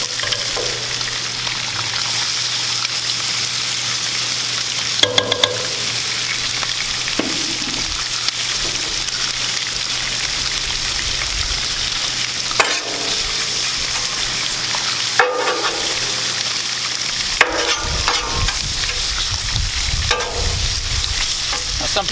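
Bratwurst sizzles and fries on a Blackstone griddle, a constant loud crackling hiss throughout with occasional scraping clatters of a utensil stirring, close up and without talk.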